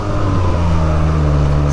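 Close by, an Akrapovic-exhausted Benelli TNT 300 motorcycle idles loud and deep, then its engine note steps up into a sustained rev partway through.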